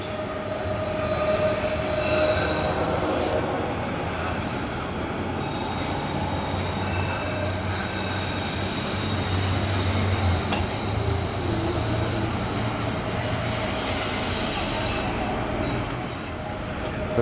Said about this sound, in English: CSX passing.